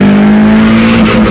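A tired, high-mileage automatic car's engine revs loudly and steadily during a botched shift, a close, droning tone that wavers slightly near the end.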